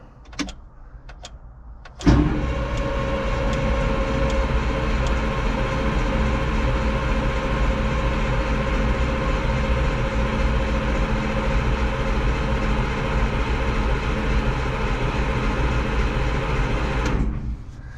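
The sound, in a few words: Caterpillar 225 excavator engine cranking over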